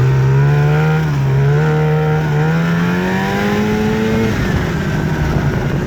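A 1998 Arctic Cat Z440 fan-cooled twin-carb snowmobile engine drones steadily close by while riding, its pitch climbing in stepped surges before easing off, loud and with no talking.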